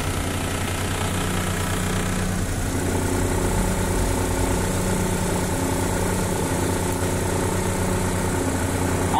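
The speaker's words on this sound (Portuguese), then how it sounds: "Armou a ventoinha, galera." An idling Chevrolet Blazer/S10 engine drones steadily nearby, and partway through a broader rushing whir joins in and continues as the radiator cooling fan switches on under the hood.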